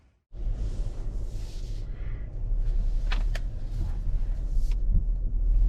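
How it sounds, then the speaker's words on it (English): A 2023 Hyundai Palisade Limited all-wheel-drive mid-size three-row SUV rolls along the road, heard from inside as a steady low rumble of road and engine noise that starts abruptly and holds, with no talk. "we are on the road in this 2023 Hyundai Palisade all-wheel drive mid-size 3-row SUV"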